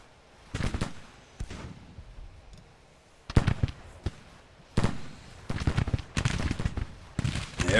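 Musket and rifle volleys crackle in a Civil War battle at Third Manassas in the strategy game Grand Tactician: The Civil War: irregular bursts of sharp, overlapping shots, some clustered into louder rippling volleys, with quieter scattered fire between them and no voices.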